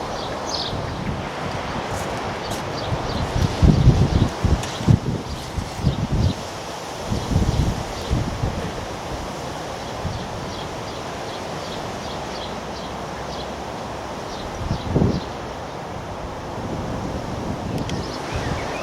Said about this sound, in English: The wind's picked up all of a sudden.